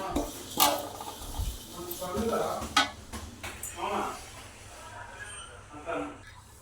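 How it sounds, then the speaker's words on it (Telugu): Oats are dry-roasted in a pan while being stirred to a golden brown for homemade Boost. A spoon scrapes and clinks against the pan in irregular bursts, and someone talks over the stirring. "ఓట్స్ కూడా మంచి గోల్డెన్ బ్రౌన్ వచ్చే వరకు మంచిగా వేయించుకోవాలి"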